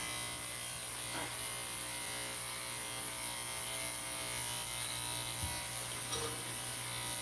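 An electric clipper shaves a dog's face during grooming, giving a steady close-up buzzing hum throughout, with small shifts in pitch as the blade moves against the fur.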